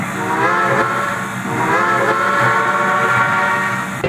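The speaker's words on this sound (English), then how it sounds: "Saph blew her whistle loudly." A steam locomotive whistle blows loudly in one long, sustained tone that holds steady for several seconds, with a faint hiss of steam underneath.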